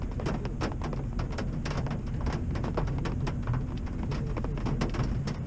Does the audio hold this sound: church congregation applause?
no